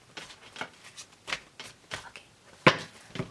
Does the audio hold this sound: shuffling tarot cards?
yes